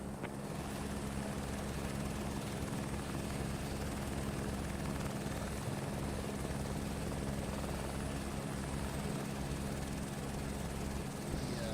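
A helicopter's steady, thumping rotor drone in Microsoft Flight Simulator 2024 fills the whole stretch, loud and constant as if from inside or right beside the aircraft.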